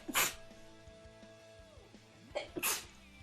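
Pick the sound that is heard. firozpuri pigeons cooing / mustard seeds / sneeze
sneeze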